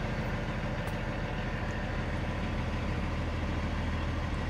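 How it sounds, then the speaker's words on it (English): A semi truck's diesel engine idling at rest, a steady low rumbling throb that stays even and continuous throughout, close and moderately loud with no speech. "Old Blue's idling right now because I'm working on the computer."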